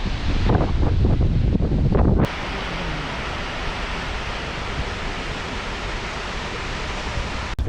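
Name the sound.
Skógafoss waterfall roaring in Iceland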